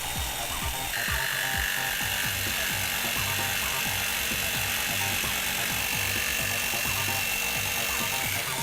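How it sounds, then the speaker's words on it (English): A jigsaw cuts through wood for a serving tray, its motor buzzing continuously and loudly up close with a rapid, even chattering of the blade throughout. "And then we'll cut the space in between using the jigsaw."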